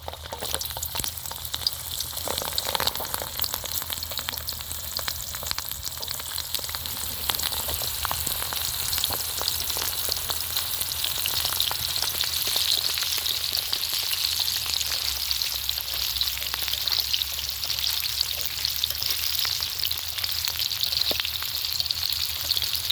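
Whole uncut small onions frying in a pan, a continuous close sizzle with faint crackles and an occasional stir, steady in loudness for over twenty seconds with no voices.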